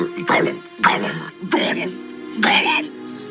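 A voice mimics a cat coughing up a fur ball: four rough, convulsive hacking bursts in quick succession, close and loud.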